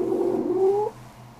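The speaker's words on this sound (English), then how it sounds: "And chirruping again." A cat gives a short rising chirrup among cats meeting one another, one soft tonal call lasting under a second and then quiet.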